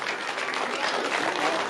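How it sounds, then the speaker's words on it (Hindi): A crowd at a Shrimad Bhagwat Katha gathering claps together in a dense, even burst of applause, brief and fairly close. "जोरदार तालियां"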